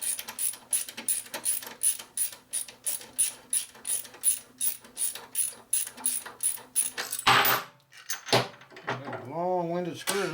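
A ratchet clicks in repeated rhythmic bursts as it backs out a long bolt, about 2.5 inches, on a custom rigid Harley Evo chopper, followed by a brief metallic clatter and someone speaking at the end.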